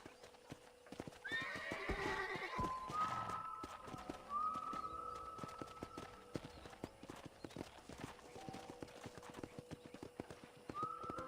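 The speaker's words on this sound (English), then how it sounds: "I picked out a fine horse for you." Hooves clip-clop steadily on hard ground on a ranch in Red Dead Redemption while a horse whinnies and snorts nearby, with birds chirping faintly in the background.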